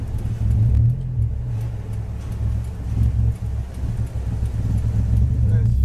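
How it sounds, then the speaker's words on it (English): A car engine running rough and close to stalling as its fuel pressure drops, giving a loud, steady low rumble that wavers unevenly throughout, heard up close from inside the vehicle. "My car is ready to stall out for some reason."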